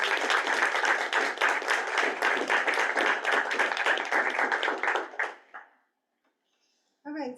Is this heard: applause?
yes